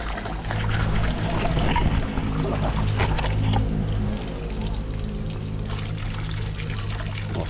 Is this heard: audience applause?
no